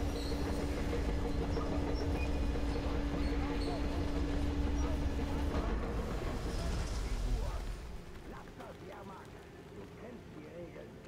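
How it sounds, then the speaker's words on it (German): In the video game Metro Exodus, a locomotive rumbles with a heavy mechanical drone as it is turned on a turntable. The loud rolling noise drops away near the end, and a voice talks over it. "Drehscheibe, die drehen die Lok um, okay."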